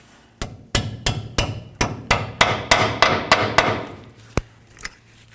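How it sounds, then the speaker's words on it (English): A hammer taps a retaining clip onto a Toyota Tundra front lower ball joint: about thirteen sharp metallic blows in a steady rhythm, close and loud, with a brief pause before the last two strikes. "give it a couple loving bonks until it sits in"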